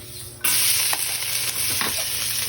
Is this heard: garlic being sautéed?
yes